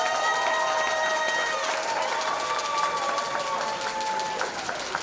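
Audience applauding and cheering for dancers at a dance competition finale, dense continuous clapping and crowd noise with music tones sustained underneath.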